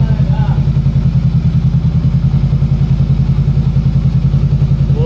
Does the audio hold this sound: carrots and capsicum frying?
no